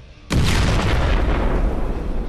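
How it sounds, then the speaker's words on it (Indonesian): A huge blast erupts as bald hero Saitama leaps up to the surface in an animated battle, a sudden loud boom that hits all at once and then rumbles on as a dense roar with no talking. "Lalu si botak melompat ke permukaan dengan ledakan yang sangat besar."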